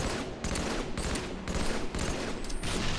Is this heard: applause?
no